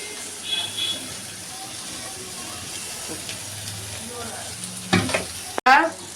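Beef or chicken liver frying in a hot pan, a steady close sizzle and hiss throughout with occasional stirring scrapes, and a louder burst of spattering near the end.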